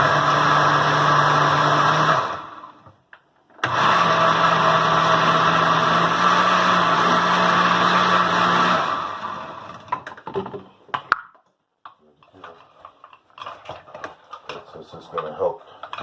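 A blender motor runs loud and steady while blending apples and beets into a vegetable drink, cutting out briefly, then whirring again for several seconds before stopping, followed by quieter handling noises.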